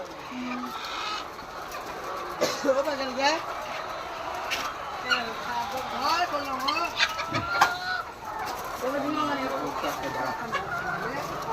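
Chickens cluck and squawk repeatedly, close by, with people talking over the birds and some shuffling noises.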